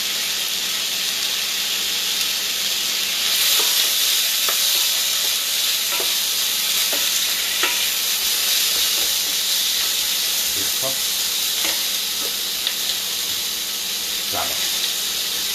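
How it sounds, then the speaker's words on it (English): Chicken fries in a heavy-bottomed pot with a continuous loud sizzle and hiss, broken by occasional faint stirring clicks, no talk. "So about 5 minutes we're going to fry that chicken for."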